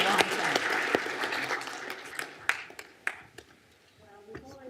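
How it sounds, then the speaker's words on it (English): Audience applause thanking Professor Shirahase at a Japan Update 2022 lecture, a dense burst of clapping that thins out into a few scattered claps at the end, with talking mixed in. "we've already given our applause to thank Professor Shirahase"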